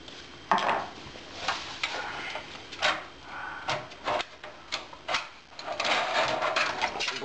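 An old computer power supply is pushed down and slid out of a desktop case, giving close scraping, sliding metal sounds broken by several clunks and knocks.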